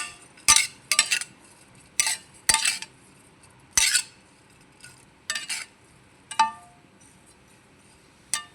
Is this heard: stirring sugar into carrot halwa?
yes